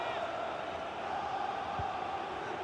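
A stadium crowd in the football video game FIFA 20 roars as a dense, steady wash of distant cheering at an even level throughout.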